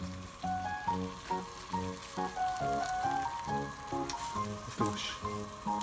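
Small pieces of beef drop into boiling water for doenjang stew, a steady bubbling and sizzling simmer with a few soft splashes and a faint tonal hum running underneath.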